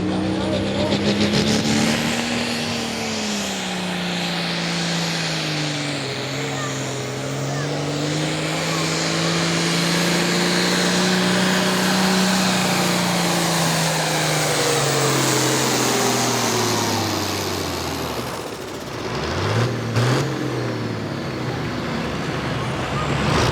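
A turbocharged farm tractor makes a test pull on a dirt pulling track at a Virginia tavern event, its engine roaring loud and steady for over twenty seconds with rising and falling pitch, then easing off near the end.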